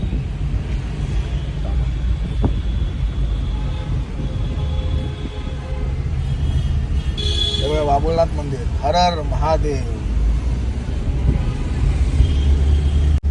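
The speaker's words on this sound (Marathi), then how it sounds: "फटे ट्रॅफिक बघा, सगळं जाम आहे, सगळं जाम." Dense road traffic jam in Mumbai near a temple, a steady rumbling wash of engines and horns with one brief honk pattern midway, continuous throughout while people talk over it.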